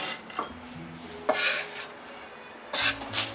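Chopped onions scraped off a cutting board into a small bowl with a knife, making several short, close, rasping strokes separated by brief pauses.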